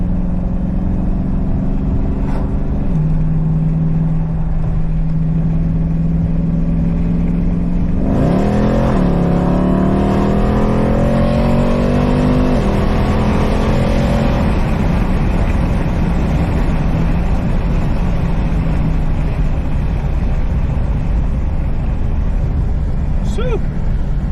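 A Dodge Hellcat car accelerates hard from 60 to 120, its engine droning loud and close, then rising steadily in pitch through a gear change as speech carries over the engine noise.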